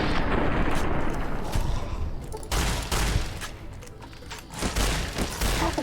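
Gunfire from the Fallout New Vegas video game, during the Lonesome Road DLC, comes as loud, dense volleys of shots and booming impacts that run almost without a break, with a possible voice faintly underneath.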